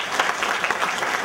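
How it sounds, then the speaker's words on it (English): Audience applause at an open viva thesis defence, a steady dense wash of clapping filling the short moment, fairly close and without talk. "So I would like to really applause to the chairman"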